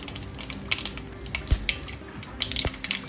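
Mustard seeds dropped into hot oil in a pan, a sputtering, crackling sizzle with scattered sharp pops over a steady low hiss, close and fairly quiet.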